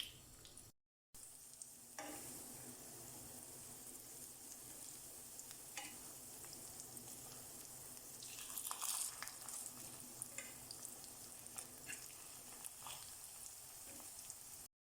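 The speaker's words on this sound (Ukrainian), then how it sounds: "І смажимо з обох сторін до золотистого кольору на середньому вогні." Quiet, steady sizzling of fish patties frying in oil over medium heat, with occasional soft clicks and scrapes, faint and continuous.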